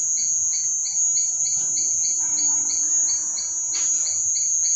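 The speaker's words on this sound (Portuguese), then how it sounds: "Os grilos cantando." Crickets chirp steadily on a rural farm at night, a continuous high shrill trill layered with rapid repeated pulses, loud and close, with no talking over them.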